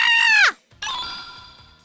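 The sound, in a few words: human scream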